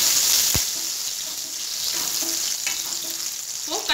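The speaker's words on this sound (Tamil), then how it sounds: "இப்போ வந்து கொஞ்சம் கருவேப்பிலை போடலாம்." Curry leaves hit hot oil during preparation of a ground-masala chicken gravy, giving a sharp burst of spitting sizzle followed by a steady crackling fry with light stirring scrapes, close and loud throughout.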